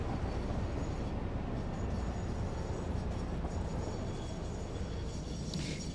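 A train rolls along the track in the video game Satisfactory, giving a loud, steady rumbling roar that holds constant throughout with no talking.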